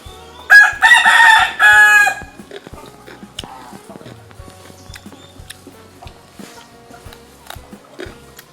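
A rooster crows loudly and close by, followed by scattered soft clucking and small scratchy farmyard noises.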